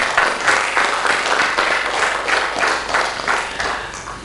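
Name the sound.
audience applause for Shri Firoz Abbas Khan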